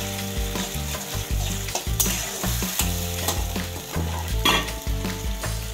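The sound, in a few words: gravy for chicken momos being fried and stirred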